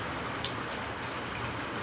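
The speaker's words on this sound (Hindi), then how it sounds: "तो आज बारिश ही हो रही है" Rain falls steadily in a soft, even hiss with faint scattered drop taps, fairly quiet and continuous with no voices.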